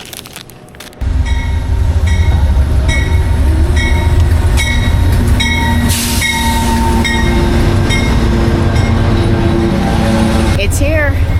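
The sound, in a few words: long-distance passenger sleeper train arriving at station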